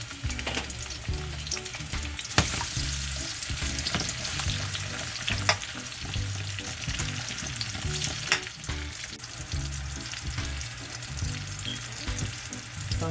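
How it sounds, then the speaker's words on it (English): Onions frying in a pan as the sauce base for Jamaican brown stew snapper, a steady close sizzle with occasional sharper crackles and pops from the oil throughout. "So I'm frying up my onions."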